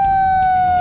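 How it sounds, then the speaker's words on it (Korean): A loud, steady evacuation siren inside a tunnel before blasting holds one pitch with bright overtones, sounding continuously without a break through the short moment. "터널 내부에도 대피를 알리는 사이렌이 울린다"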